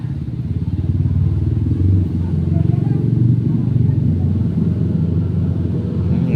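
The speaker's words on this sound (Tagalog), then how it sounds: "Naririnig nyo ba guys yung mga tunog ng mga sakyan dito? Yung mga nadaan kasi mga motor, tricycle." Steady low rumble of motorcycles and tricycles passing close on a Philippine street, a continuous engine drone that swells and eases as vehicles go by, with a voice talking over it.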